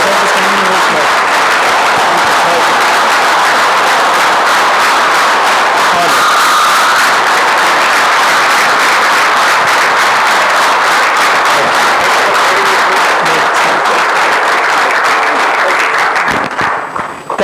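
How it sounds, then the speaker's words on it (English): An audience at a fireside chat event breaks into loud, sustained applause with scattered cheering, a dense wash of clapping that continues for many seconds before tapering off sharply at the end. "I'd like to have a big thank you and a big applause."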